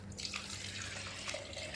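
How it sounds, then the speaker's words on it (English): Water is injected into the cooling tube of a CO2 laser Q-switch, a steady close rushing and trickling flow that runs without pause and with no voices. "Then we can injecting water."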